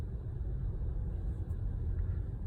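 A Honda car rolls forward under adaptive cruise control, following the vehicle ahead at low speed. A steady, muffled cabin rumble of engine and road noise sits at low volume with no talking.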